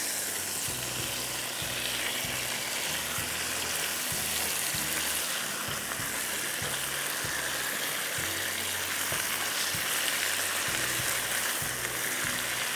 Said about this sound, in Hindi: ऐसे फ्राई कर रही हूँ,